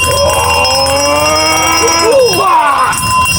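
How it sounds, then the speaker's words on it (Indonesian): A bell rings with sustained, gliding tones over a steady loud background, heard alongside a noisy scene with voices. "Teng ini akan berbunyi"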